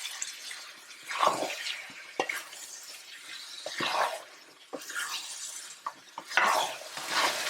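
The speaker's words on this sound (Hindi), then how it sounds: "इसको मिक्स करते हैं हाई फ्लेम पर, और धनिया डाल देते हैं मुट्ठी भर, और इसको यहाँ पर अच्छे से मिक्स कर लें" Mashed dal with a handful of coriander being stirred in a pot on high flame, with wet scraping strokes every second or so over a soft, steady sizzle, close and fairly quiet.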